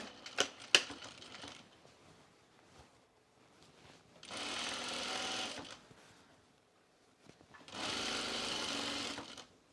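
A sewing machine stitches a French seam on a pullover camp dress in two steady bursts of rapid needle running, separated by quiet pauses with light handling clicks.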